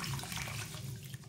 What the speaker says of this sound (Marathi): त्यात आता मी पाणी घालून 2 ते 3 पाण्याने आपल्याला भगर स्वच्छ धुवून घ्यायची आहे